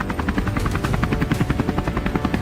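A helicopter flies overhead during a wild boar hunt, its rotor thumping in a steady, fast rhythm that stays loud and close throughout with no voices.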